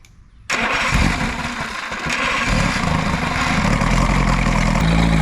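A V-4 outboard motor on a stand, starting for the first time in over five years, cranks and catches abruptly, then settles into a loud, rough, continuous run nearby.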